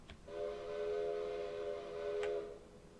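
A train horn sounds in the video game Railroader, a sustained multi-tone chord blaring steadily for about two seconds at close range, with no talk over it.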